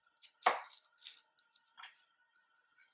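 A kitchen knife slicing an onion in half, one sharp crisp cut through the bulb followed by a few softer scraping and crunching sounds, close and quiet with no talking.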